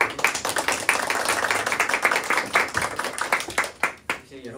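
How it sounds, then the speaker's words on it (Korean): A church congregation claps in thanks during a Sunday service announcement, a brisk run of individual hand claps that thins out and stops near the end. "감사의 박수."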